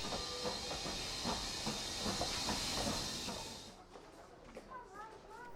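A steam train on the North Yorkshire Moors Railway hisses loudly in a broad, steady rush of released steam that cuts off abruptly, leaving quieter station ambience with some brief chirping.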